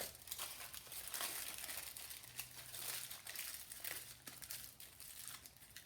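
Aluminum foil being crumpled and twisted by hand while shaping a sculpture, a steady run of crinkling and crackling rustles, close and fairly quiet, with no talking.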